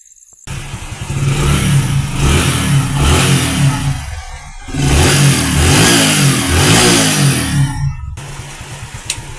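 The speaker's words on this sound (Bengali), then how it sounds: "তো আমরা বাইকটি স্টার্ট করে" A motorcycle engine starts up and revs loudly in two long surges, dipping briefly between them before settling back to a rough idle, after a self-starter repair.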